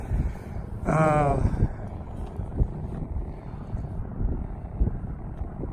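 A DJI drone flies back in to land outdoors. Its buzzing motor whine swells briefly with a rising pitched tone, then settles under a rough wash of wind noise.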